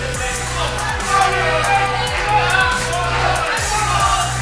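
A crowd cheers loudly at a live CrossFit Open 20.5 workout event at CrossFit Punt Uit, over a pulsing music beat, with an announcer's voice mixed in.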